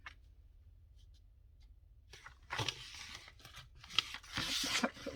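Paper being torn along a ruler, starting with faint, quiet scratches and then a run of loud, close ripping and crunching bursts over the last half.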